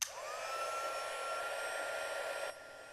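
A heat embossing tool blows hot air over embossing powder on a card, a steady whirring hiss that starts abruptly, holds for about two and a half seconds, then drops slightly in level.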